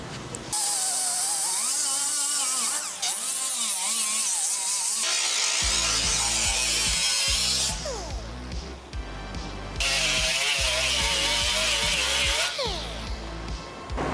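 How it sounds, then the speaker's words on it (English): A power tool grinds and sands rust off a BMW E30 fender with 80 grit, running in long, loud whining bursts with pitch shifts and brief pauses between passes, close and without talk. "now I'm going to grind everything and sand everything down with 80 grit"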